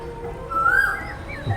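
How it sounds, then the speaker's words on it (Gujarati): A koel gives a single rising whistled call at middle distance, moderately loud over a steady outdoor background hiss with no talking. "ને કોયલ રાણી કેવા બોલે છે?"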